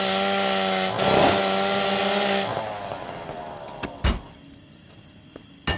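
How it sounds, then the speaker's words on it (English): Engine-like snarl of a chainsaw in a VR zombie-fighting video game, revving loudly for the first couple of seconds then fading down, followed by sharp thuds and clatter. "I love the chainsaw. I love the way it works."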